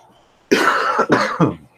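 Three harsh coughs in a quick burst, close and fairly loud, the last one shorter, with quiet before and after.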